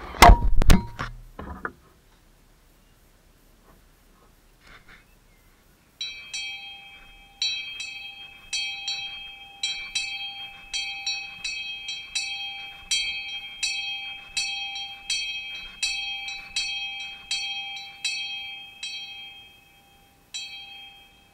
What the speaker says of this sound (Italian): qua è il martello per suonare i rintocchi del campanone